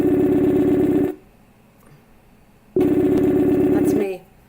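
A telephone rings in two long, loud electronic bursts, each about a second, separated by a quiet pause, heard close and clear.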